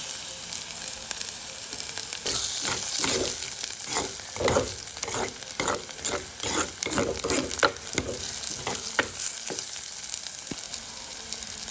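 Fenugreek seeds and curry leaves frying in a pan, giving a steady close sizzle broken by repeated scraping stirs throughout.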